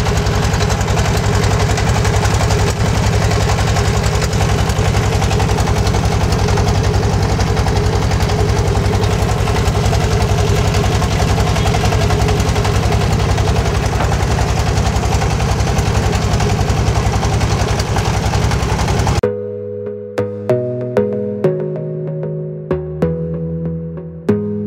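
A motorboat engine runs steadily during a river boat ride on a cloudy afternoon, a loud, continuous mid-pitched drone with knocking vibration that cuts off abruptly near the end, leaving faint scattered sounds.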